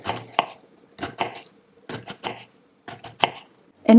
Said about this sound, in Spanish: Picamos finamente la cebolla.